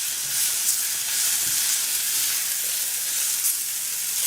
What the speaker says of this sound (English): And just continue to saute till everything seems nicely incorporated.